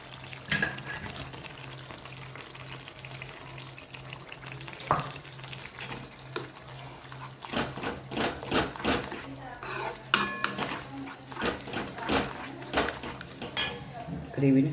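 Creamy paneer kofta gravy with butter masala and cream cooks in a pan, a steady sizzle and bubble running throughout while a spoon scrapes and clinks against the metal in irregular bursts, close and moderately loud.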